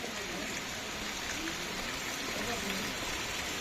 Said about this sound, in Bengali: দেখো কি রেটে বৃষ্টি হচ্ছে